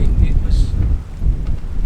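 A winter gale in the UK drives wind and rain around a camper van, loud rumbling buffeting gusts with a dense rain wash that surges and eases close by.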